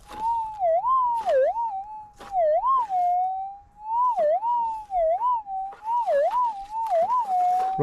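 Minelab GPZ7000 metal detector signalling a target in a gold field, a loud warbling tone rising and dipping repeatedly as the coil sweeps, with crackling bursts between.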